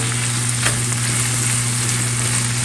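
Sautéed vegetables stirred into a chicken stir fry in a pan, a loud, close, continuous sizzle and crackle with faint scraping of the utensil, no voices.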